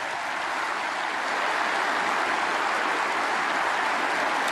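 Steady, dense applause from a snooker crowd at the German Masters for Kyren Wilson, continuous and broad across the whole stretch with no talk over it.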